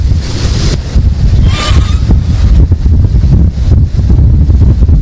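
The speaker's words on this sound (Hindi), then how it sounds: "पानी के तट से टकराने की आवाज कैमरे में कैद हुई है, वो आप सुन पा रहे हैं।" Storm-driven sea waves pound the shore in strong wind during a storm moving from Gujarat toward Rajasthan, heard as a loud, continuous roar with heavy wind buffeting the microphone throughout.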